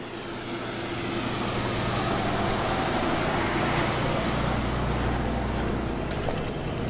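A Renault 4CV idles outdoors in the snow with a steady, low burbling engine rumble that swells slightly and holds.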